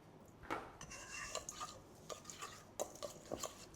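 Banana blossom salad with chili powder, toasted coconut and fried shallot is tossed in a bowl, giving soft, irregular scraping and clinking strokes of a utensil, fairly close and quiet.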